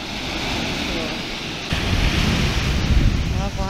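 Forceful ocean waves crash and wash onto a frozen beach after a storm, a continuous loud surf roar mixed with wind noise that swells louder midway.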